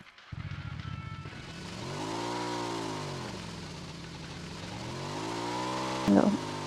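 In the video game PUBG Mobile, a tricycle engine revs up and down in smooth, repeated swells, with a brief louder clatter near the end.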